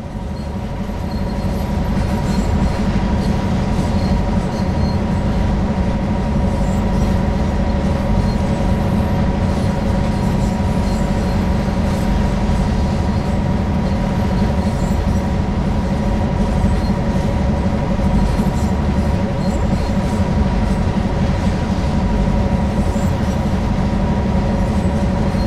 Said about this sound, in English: You're currently aboard a GP9RM diesel locomotive.